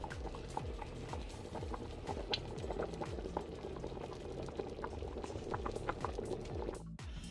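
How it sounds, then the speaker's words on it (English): Jamaican stew peas with beef bubble steadily in a covered pot, a dense continuous simmer with soft pops and gurgles, close and even, ending with a brief clank near the close. "So now I'm going to place the cover on, and I'm going to make it cook for 20 minutes."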